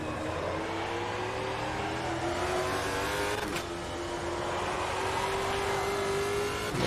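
Stock car racing engines in Automobilista 2, a Stock Car Brasil 2020 race at Hockenheimring, drone steadily on the last lap with a rising engine note, a brief sharp burst midway, and rivals close by throughout, with no talking.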